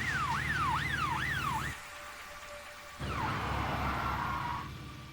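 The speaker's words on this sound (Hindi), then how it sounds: "भाई वो देखो, वो तो पुलिस की गाड़ी है।" A police car siren wails in a rising and falling sweep, loud and close, then cuts out for about a second before a brief second burst fades as the vehicle passes.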